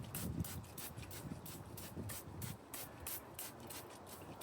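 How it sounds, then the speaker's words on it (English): Rapid, rhythmic bursts from a trigger spray bottle hiss close by as cleaner is sprayed onto a tire, about a dozen pumps in quick succession. "I'm just going to basically spray the entire"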